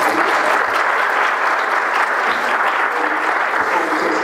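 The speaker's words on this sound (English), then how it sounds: "We'll give him another round of applause." A lecture audience at a talk on racism and privilege gives a sustained round of dense, even clapping that holds steady throughout.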